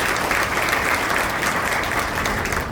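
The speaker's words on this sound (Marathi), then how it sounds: "आपण निलेजीसाठी एकदा टाळ्या वाजवूया" A hospital gathering in Shahapur applauds in a loud, dense and even burst of clapping that stays close and continuous, with no talk over it.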